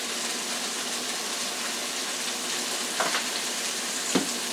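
Onion and ginger frying in a pan, a steady close hiss of sizzling oil with two brief louder crackles from stirring, and no talking.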